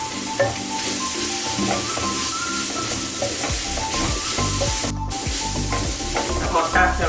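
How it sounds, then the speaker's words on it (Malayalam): Eastern garam masala sautés in a hot pan for an egg curry, sizzling steadily while a spoon scrapes and stirs in repeated strokes, loud and close, without any talking. "ഇതെല്ലാം കൂടെ നല്ലപോലെ ഒന്ന് മൂപ്പിക്കും"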